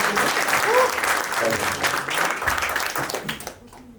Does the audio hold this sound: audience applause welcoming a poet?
yes